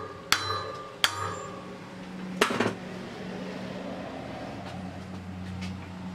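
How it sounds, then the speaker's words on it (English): A few sharp metallic taps land on the high spot of a part on a 4-stroke 7G motorized bicycle. There are two quick strikes, then a third with a brief rattle, close by over a quiet workshop hum. "right in the middle of it, I'm gonna give it a nice little tap"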